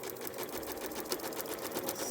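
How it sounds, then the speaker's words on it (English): A sewing machine stitches along the line of a foundation paper pieced quilt block, a steady, rapid mechanical chatter running throughout at close range, with no voice over it. "We're just sewing on the line."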